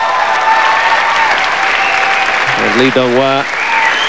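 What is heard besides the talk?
personal cheer squad cheering and applauding a bronze medalist gymnast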